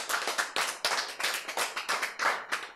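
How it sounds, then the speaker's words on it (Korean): An audience clapping in a lecture hall, a close, lively patter of hand claps in quick irregular bursts that swell and fade several times. "박수"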